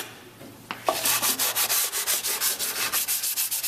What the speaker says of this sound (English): Sand the front edge. With the grain.